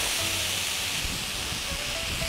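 A steady, loud hiss of vinegar sizzling as it deglazes a hot pan, continuous throughout with no talking.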